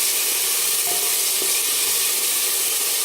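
Tomatoes and salt sauté in a pan with a loud, constant, close sizzle and faint stirring, and nobody talking.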